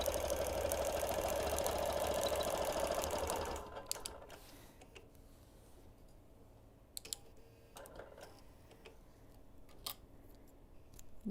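A longarm quilting machine stitches a quilt with a fast, buzzing drone for a few seconds, then stops, leaving scattered clicks and light handling noises in a quiet room.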